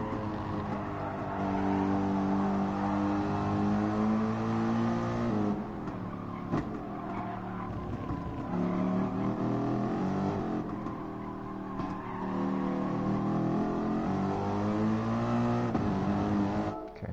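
A race car laps Interlagos in the Gran Turismo Sport video game, engine note rising and falling through the gears as it brakes, corners and accelerates, loud and continuous, with no voices over it.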